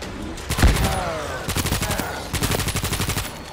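Rapid gunfire aimed at zombies in World War Z: Aftermath, a fast rattling stream of shots in two quick bursts after an initial blast, with a voice calling out in the game.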